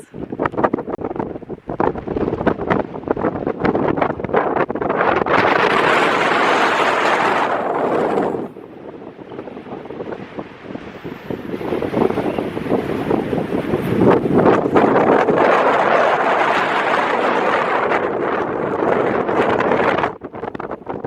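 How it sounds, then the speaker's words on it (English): Strong gusts of wind in Texas buffet the microphone in loud roaring bursts, briefly easing midway before blasting again. "It's windy."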